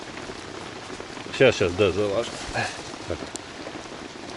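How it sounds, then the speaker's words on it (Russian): Steady rain patters on a tent, a continuous soft drumming that carries on under a man's nearby speech. "Дождик то припустит, то поменьше."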